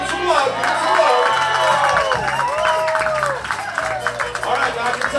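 An audience cheers, whoops and claps for musicians at a live jazz and honky-tonk performance, a dense continuous crowd roar with bursts of shouts, while an announcer's voice carries over it.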